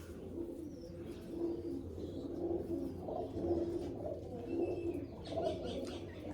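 Soft, repeated pigeon cooing, several low rolling coos spaced through the clip over a quiet background with faint chirps.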